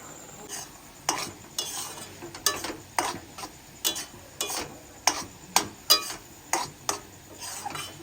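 A white naru mixture with cardamom is stirred and turned in a pan, making a steady run of scraping strokes, about two per second, over a faint sizzle, close and clear, with no talking.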